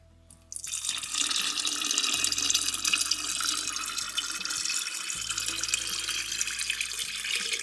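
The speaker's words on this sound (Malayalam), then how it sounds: "അപ്പോൾ എന്തായാലും നമുക്ക് വെള്ളം ആദ്യം ചേർത്ത് കൊടുക്കാം" Water from a tap runs steadily into a container while making homemade chikku (sapota) wine, a continuous close splashing stream that starts abruptly after half a second and keeps going with no talking.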